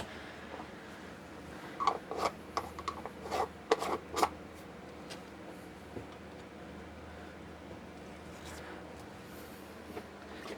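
Rosemary sprigs being trimmed while making fire cider: a faint cluster of short snips and rustles in the early middle, then quiet room tone.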